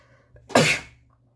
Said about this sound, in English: I'm so sorry about that sneeze.